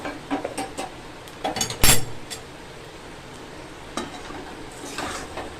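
Spices frying in a pan with cumin powder and garam masala, close scraping and clinking of a spoon in short bursts with a loud clatter near two seconds, over a low sizzle and no talking.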